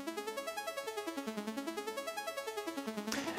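Sequencer arpeggio of a major seventh chord, bright synthetic tone stepping rapidly note by note up and down in an even, steady pulse, with a brief noisy burst near the end.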